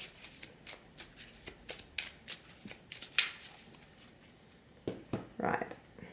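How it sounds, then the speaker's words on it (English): Tarot cards are shuffled by hand in a quiet room, a series of soft, crisp riffles and flicks in an irregular rhythm, close and faint. "I'll try to edit most of this shuffling out for you"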